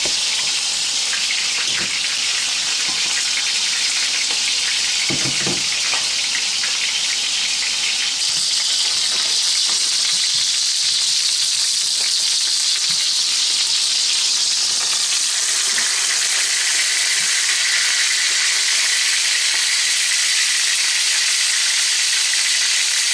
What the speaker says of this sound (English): As you can see, I've been searing away here.